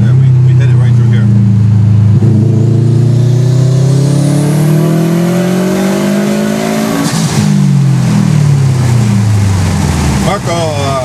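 A turbocharged Subaru WRX engine roars loudly as it accelerates, its pitch climbing through gear changes, heard up close from inside with a voice briefly over it.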